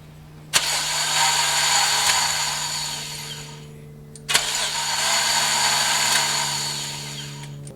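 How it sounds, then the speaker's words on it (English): Slipping starter motor on a 1995–1996 Infiniti I30 (same as Nissan Maxima) cranking twice: each attempt opens with a sharp engagement clunk, then a long steady high whirring spin of about three seconds, with a brief pause between. "the starter is slipping internally. It starts to engage for a moment and then will spin."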